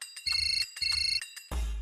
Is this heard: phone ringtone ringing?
yes